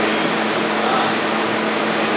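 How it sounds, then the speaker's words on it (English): Combustion air blower on a Decker 3.5 million BTU wood pellet boiler runs just after start-up, a steady, close whooshing roar with a fixed high whine on top and no change in level. "this is the combustion air blower. This started up."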